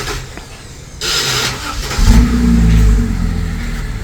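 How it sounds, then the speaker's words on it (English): A 2012 BMW X6 fires up after an engine install, a sharp start followed by a deep, loud rev that swells and holds before easing off, heard close and without talk. "So this is what it sounds like after we installed the engine."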